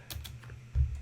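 Soft, quick keystrokes on a computer keyboard while web code is typed, a few light taps close by over a low steady background hum, with no speech.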